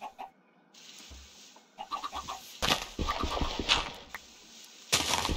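A Minecraft chicken clucks in short bursts, mixed with game sounds: a wing flap, blocky footsteps and brief bursts of noise, all at moderate level with no talk.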